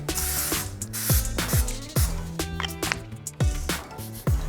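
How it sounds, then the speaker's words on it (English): Short hissing spray bursts of non-stick cooking spray onto a hot skillet repeat several times in quick succession, a pressurized aerosol sound, fairly close with background rattles. "Spray some non-stick cooking spray."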